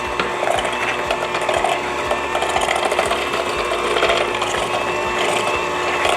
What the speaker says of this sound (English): we are going to go to slightly higher speed to mix this together